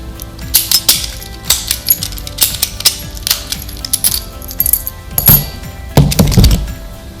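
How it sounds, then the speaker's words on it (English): Lock cylinder and key lever parts clicking and clinking together, a series of sharp close metallic ticks and taps at an irregular rhythm, with a few heavier knocks and rattles near the end. "Take your key, insert it, turn it a quarter turn, slide it back on, should click together."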